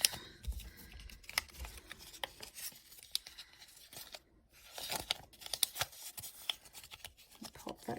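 A paper budget sheet folded in half at close range, with crisp crinkles, rustles and sharp creasing snaps in short, uneven bursts and no voices.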